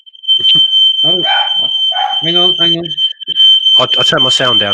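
A smoke or fire alarm beeps steadily at a high pitch under people talking in a home setting, a continuous piercing tone running through nearly the whole stretch.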